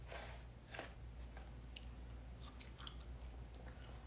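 Someone chewing soggy, limp fries close to the mic, soft wet mastication and small bites spread over a low steady background hum, with no talking.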